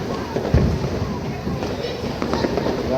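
Fireworks and firecrackers going off on Puri beach during a New Year celebration, with one sharp nearby bang early on among a steady crackle of bursts over wind noise and crowd voices.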